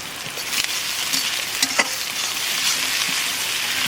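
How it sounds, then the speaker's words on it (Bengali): Salted onions fry in oil spiced with cumin, bay leaf, cloves, cinnamon and cardamom. A close, even sizzle carries a few sharp spatula knocks and scrapes. "পেঁয়াজটা একটু ভেজে নিয়েছি"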